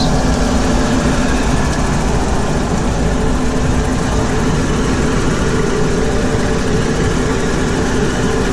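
Inboard engines on a Meridian 341 boat idle as they warm up, a loud, steady, rumbling drone that holds unchanged close by with no talking.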